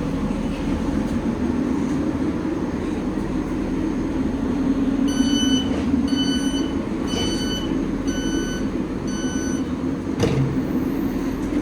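A train arriving at a London station rumbles steadily nearby with a low drone, while a repeating series of electronic beeps sounds partway through and a brief clunk near the end.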